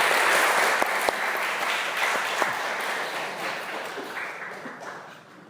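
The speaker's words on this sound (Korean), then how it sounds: "우리 박수로 맞이하겠습니다." A church congregation at a Baptist service claps in welcome, a broad wash of hands that starts full and gradually thins and fades, with a few sharper individual claps standing out near the start.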